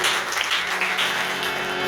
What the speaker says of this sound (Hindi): हाथ उठा के ताली बजाने यीशु नाम से देना